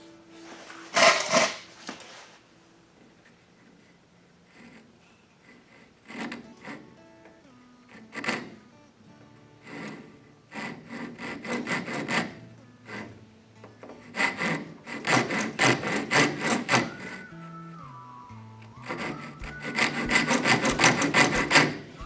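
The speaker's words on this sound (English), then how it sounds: "I'm going to refer back to my dovetail saw. Give me a nice clean cut here." A hand dovetail saw cuts a woodworking joint in bursts of close, rasping strokes, each burst several quick back-and-forth passes with short pauses between, loud and alone without talk.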